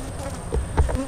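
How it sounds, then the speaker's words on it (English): Honey bees buzzing around a full hive comb, a dense steady drone close by with a few louder swells as individual bees pass near. "this thing is full of bees"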